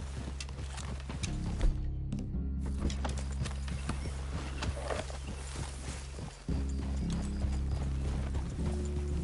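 Horse hooves clip-clopping at a walking pace in Red Dead Redemption II, an even rhythm of steps over a low ambient hum.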